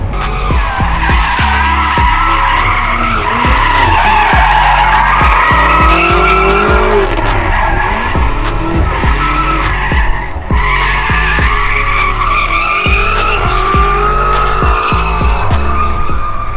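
A BMW M5 F90 drifting: loud, sustained tire squeal and skidding over a roaring, revving engine, close and continuous for the whole stretch, with no talking.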